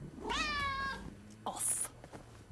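A cat gives one clear, drawn-out meow close by, followed by a short high squeak, with a voice speaking briefly nearby.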